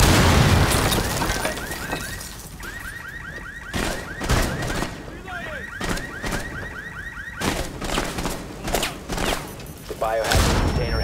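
Breach charge explosions in Rainbow Six Siege on the Consulate map, several loud sharp blasts going off in separate bursts while a wavering alarm-like tone sounds in the background.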